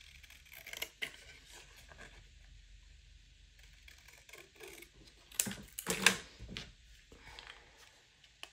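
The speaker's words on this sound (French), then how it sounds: "Je viens découper autour." Scissors cut around scrapbooking paper in a few quiet, short snips, with a cluster of louder crisp cuts near the end against a soft background.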